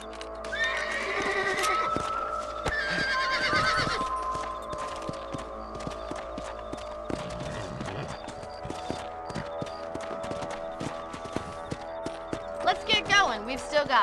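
Horses whinny and snort over steady hoofbeats in Red Dead Redemption, with a voice talking partway through and a sharp neigh near the end, against a game-like backdrop.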